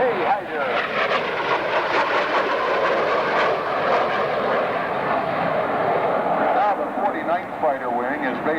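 An Aurora patrol aircraft makes its first pass at the 1995 London International Airshow, a loud sustained engine roar sweeping past with broad rushing noise, while people talk nearby.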